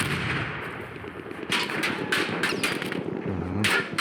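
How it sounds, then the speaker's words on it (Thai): Bursts of gunfire in the video game Battlefield 1 multiplayer crackle in short volleys over a continuous low background rumble, some shots sharper and closer than others. "นี่ตรงนั้นมีการยิงกันครับ"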